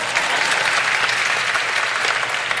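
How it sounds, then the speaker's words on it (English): An audience at a cabaret show at the Kennedy Center applauds in a dense, continuous wash of clapping that holds at an even level throughout. "some of you did clap"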